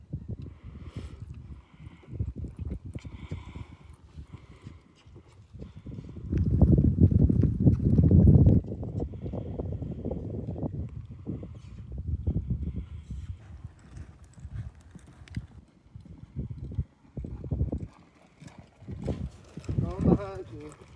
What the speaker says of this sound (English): he just has a nice, pretty trot and a big stop